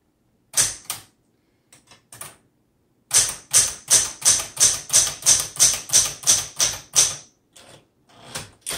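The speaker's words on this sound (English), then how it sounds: "it's a little noisy. It's, like I said, this is going to be a budget typewriter." Keys strike on a 1973 Smith Corona Sterling manual typewriter, a budget model set to elite font: a few scattered clacks, then a fast, steady run of sharp, close, loud keystrokes with crisp metallic snaps, alone with no voices.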